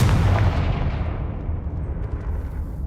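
Confringo fire blast spell in Hogwarts Legacy, a single heavy booming burst at the start that rolls off into a fading rumble, close and loud, with no talk.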